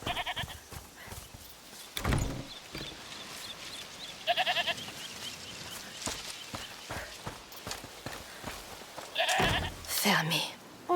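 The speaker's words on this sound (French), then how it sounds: "Écoutez, c'est la chèvre du monsieur?" A goat bleats several times in A Plague Tale: Requiem, with short wavering cries recurring across the scene alongside hoof-like clopping and ambient game sound while people talk over it.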